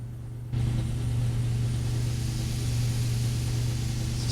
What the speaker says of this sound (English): and we can start engine number 2.